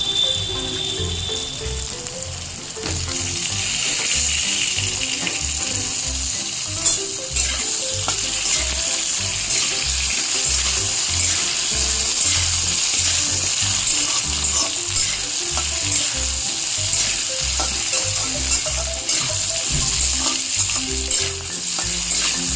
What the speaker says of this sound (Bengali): একটু মিশিয়ে নিলাম মশলার সাথে, হলুদের সাথে, তেলের সাথে হালকা মাইল্ড একটু ভেজে নিলাম।